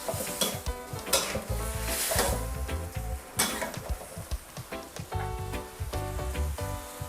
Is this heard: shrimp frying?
yes